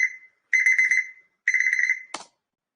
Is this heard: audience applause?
no